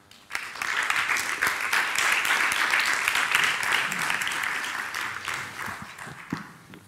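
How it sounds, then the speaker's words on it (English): Audience applause welcoming a speaker at an architecture forum talk, steady dense clapping from a sizable crowd that swells quickly, holds for several seconds, then tapers off with a few last claps. "Please welcome Shajay Bhooshan with a huge clap"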